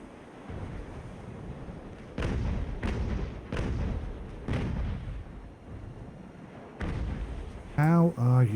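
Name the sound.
naval cannon fire in Ultimate Admiral: Age of Sail video game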